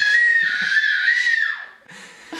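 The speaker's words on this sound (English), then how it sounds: "She screams, she makes that face all the time and repetitively too." A baby girl lets out a loud, sustained, high-pitched scream that holds for over a second before trailing off, then starts again briefly after a short pause.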